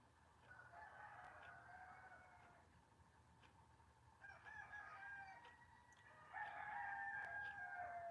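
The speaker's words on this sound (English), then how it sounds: "No, I don't want no damn 2 or 3 roosters." Several roosters crow in long drawn-out calls, one after another and overlapping, the last one loudest and closest over a low background hum.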